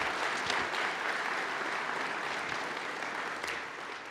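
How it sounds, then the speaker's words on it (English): An audience at a museum's Veterans Day event applauds its staff, a steady wash of many hands clapping that holds at moderate loudness and fades slightly at the end. "please, one more round of applause to our staff."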